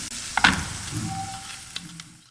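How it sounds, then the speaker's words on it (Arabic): Meat frying in a pan with ginger, ras el hanout, black pepper and salt, a soft close sizzle with a few sharper crackles and stirring scrapes, fading slightly toward the end. "نقلي كلش مليح."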